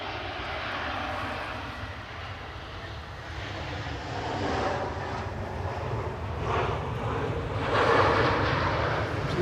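A four-year-old EasyJet Airbus A320neo on approach to land at Manchester, its broad jet roar rumbling steadily and swelling gradually louder, with no voices.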